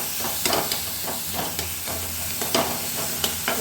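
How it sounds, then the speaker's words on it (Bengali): Masala paste of onion, ginger, garlic and tomato fries and sizzles in hot mustard oil for an egg curry. A steady hiss runs under repeated scraping strokes of a stirring spoon, close up, with no talk. "যেখানে এটাকে ভালো করে কষিয়ে নেওয়া হচ্ছে"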